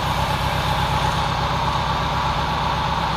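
A car engine treated with Nanotec metal conditioner runs steadily at idle for a demonstration, a loud, continuous, even rumble heard close up with no talking.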